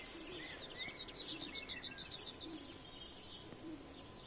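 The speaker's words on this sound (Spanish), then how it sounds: "¿Son pájaros?" Soft bird calls in the video game Everybody's Gone to the Rapture, a quick run of repeated chirps followed by low cooing, faint and distant over a steady ambient hum.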